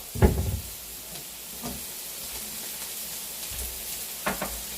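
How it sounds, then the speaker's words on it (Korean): Onion and Himalayan pink salt stir-frying in a deep frying pan, a soft steady sizzle with a louder scraping stir near the start and a couple of lighter stirring knocks later. "조금 양파 색이 많이 투명해질 때까지 볶아요"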